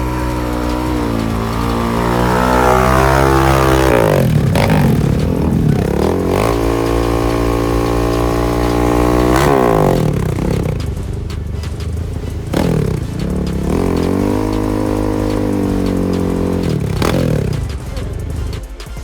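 Drag racing cars launch down the strip at 710 Dragway, loud engines revving and roaring up through the gears in repeated bursts, with one pass following another across the clip.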